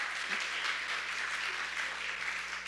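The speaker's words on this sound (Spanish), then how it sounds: "Dele un fuerte aplauso al Señor." Steady applause from a church congregation, a dense continuous patter of clapping at even loudness throughout, with no voices standing out.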